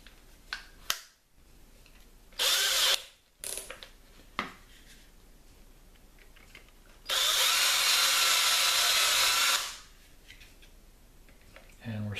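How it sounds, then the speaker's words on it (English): A power drill step-drills a hole in wood in several short bursts, ending in one longer, louder grinding run, with quiet pauses and handling noises between. "what I typically do is like to step drill"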